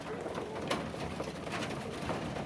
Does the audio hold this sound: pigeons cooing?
yes